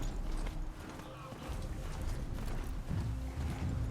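Rhythmic hoofbeats of a horse galloping in the video game Horizon Zero Dawn, continuous thudding clip-clop with a murmur of voices underneath.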